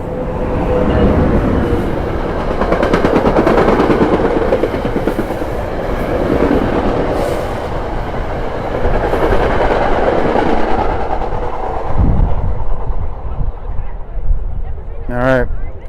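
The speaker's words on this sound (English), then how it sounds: "Also of note, another train coming." A train rolls past a high school boys' lacrosse scrimmage field, a loud continuous rumble with clickety-clack of wheels on rails lasting throughout, with people talking faintly underneath.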